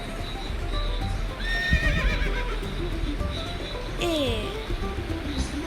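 A horse in the video game Block Craft 3D gives a clear, high whinny that wavers and falls in pitch, over steady game background noise and faint hoofbeat clip-clops.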